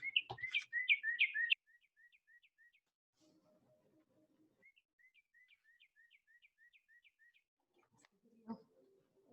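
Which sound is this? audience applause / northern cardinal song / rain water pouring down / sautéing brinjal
northern cardinal song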